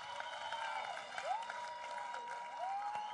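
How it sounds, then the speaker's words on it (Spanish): A standing studio audience applauds continuously in an ovation on a television show, a steady wash of clapping, moderately faint, with whistle-like tones sweeping over it. "Y el público sigue de pie en esta ovación para Ana Carolina y Paul."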